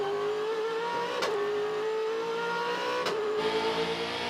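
V8 supercar lapping the Gold Coast street circuit, a sustained engine drone with a steady tonal whine that shifts pitch slightly, broken by two brief sharp bursts, then a rougher, louder roar near the end.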